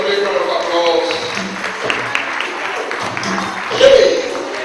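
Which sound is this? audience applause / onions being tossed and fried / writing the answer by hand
audience applause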